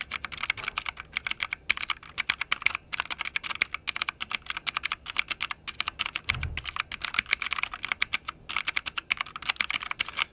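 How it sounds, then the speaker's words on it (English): Mock typing on a GK71 Sonic Blue clicky mechanical gaming keyboard: a dense, fast run of crisp close-up key clicks and bottoming-out clacks with no pauses, heard alone with no voices. "I'll do a little bit of mock typing."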